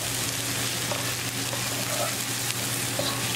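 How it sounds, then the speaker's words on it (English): Spices including salt, chili flakes, cumin, garam masala, coriander and anardana powder frying in an onion tadka while being stirred, a dense, even, close sizzle throughout with faint scraping. "We're going to cook our spices along with tadka for 1/2 minute."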